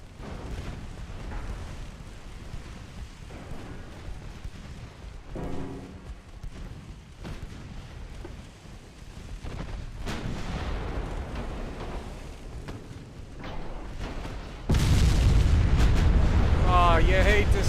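A warship blowing up in the naval battle game Ultimate Admiral Dreadnoughts, heavy booming blasts rumbling under dense gunfire, with a loud sustained roar near the end.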